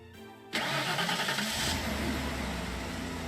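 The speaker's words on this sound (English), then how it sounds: "So Kotori got into her father's car and went home." A car engine cranks and catches, then settles into a steady running hum, heard alone as a game sound effect with no talk.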